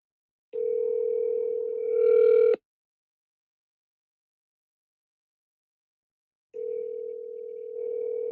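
A telephone dial tone heard over speakerphone, a steady hum that runs about two seconds, cuts to silence for four seconds, then returns, loud and close.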